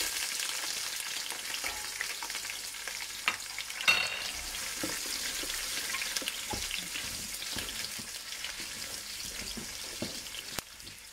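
Onion added to hot oil with browning garlic sizzles steadily throughout, with clacks of a utensil stirring the pan and a brief sharper clatter near the start, no voice.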